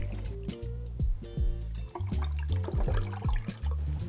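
Tullamore Dew Irish whiskey poured into a glass, a close liquid splash and trickle running for several seconds, with clinks and bubbling fill sounds and no talking.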